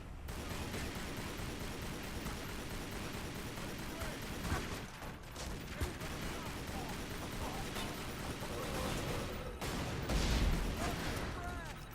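Continuous rattling gunfire and rumbling blasts from the video game Tomb Raider Legend fill the scene in a busy, dense wash, with a voice talking over the action.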